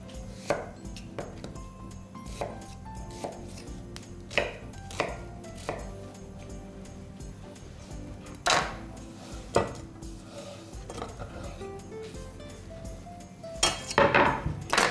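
A knife chops vegetables for a pumpkin puree on a cutting board, with irregular sharp thuds, some quick runs of strikes and occasional louder knocks, close and without talk.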